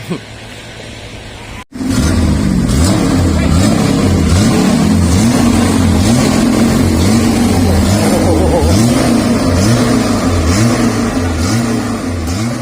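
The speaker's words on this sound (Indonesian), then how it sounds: "Itu tadi salah satu contoh knalpot mobil atau peredam mobil yang kena santet ya." A car fitted with an aftermarket exhaust muffler revs hard and loudly up close, its pulsing engine roar sustained for about eleven seconds after a brief quieter idle.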